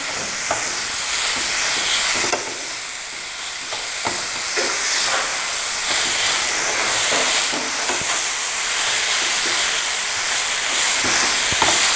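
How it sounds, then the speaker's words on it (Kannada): Rose petals and sugar frying together in a pan for gulkand, giving a steady broadband hiss with faint scraping stirs throughout, close and continuous with no talking. "ಇದನ್ನ ಸಕ್ಕರೆಯೊಂದಿಗೆ ಚೆನ್ನಾಗಿ ಮಿಕ್ಸ್ ಮಾಡಿ ಫ್ರೈ ಮಾಡಿಕೊಳ್ಬೇಕು"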